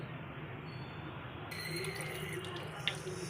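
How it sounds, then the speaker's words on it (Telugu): Beef being washed with salt in a bowl under running tap water, a soft continuous stream with light splashing that grows slightly fuller partway through. "సాల్ట్ యాడ్ చేసుకొని శుభ్రంగా కడుక్కుంటున్నాను"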